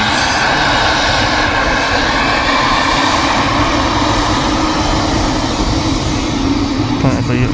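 SunExpress jet airliner at Manchester Airport, its engines giving a loud, steady, broadband roar that holds evenly from start to finish, close and continuous with no pauses.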